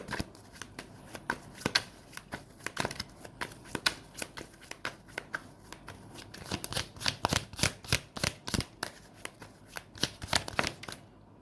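Tarot cards being shuffled by hand for a Leo reading, a quick run of crisp riffling slaps and flutters in uneven bursts, fairly close and with no talk over it.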